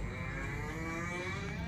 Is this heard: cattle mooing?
yes